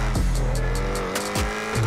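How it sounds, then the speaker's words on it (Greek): A turbocharged car in the GTA RP video game revs hard, its engine tone sweeping up and down through quick gear changes with sharp bursts, loud and close without any talk. "Και ακούστε το turbo πως στείλει."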